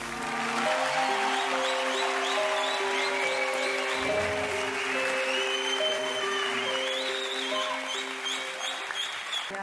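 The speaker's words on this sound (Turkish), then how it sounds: "Kocaman alkış" A crowd claps steadily and loudly, dense applause continuing throughout with music playing underneath.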